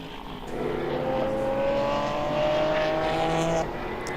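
A GT3 AMG Mercedes race car drives on the BalatonPark track during an endurance touring car race, its engine holding a steady, rising drone at moderate distance for a few seconds before easing off.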